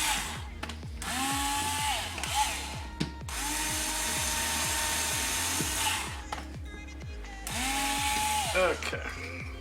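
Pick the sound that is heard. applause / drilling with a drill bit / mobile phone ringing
drilling with a drill bit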